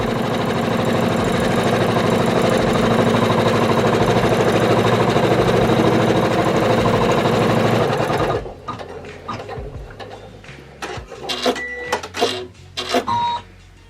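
A single-needle embroidery machine stitches an in-the-hoop felt key fob, whirring fast and steady for about eight seconds, then stops and gives way to scattered clicks and handling noises.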